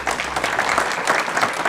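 A school board meeting audience gives Ms. Branch a short round of applause, a brief burst of moderately loud, even clapping from a room of people.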